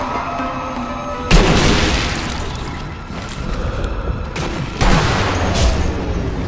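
Heavy gunfire rings out while snipers are shot in the video game Sniper Elite: Nazi Zombie Army, with two loud, booming shots in a village setting that sit over a constant loud, noisy battle ambience.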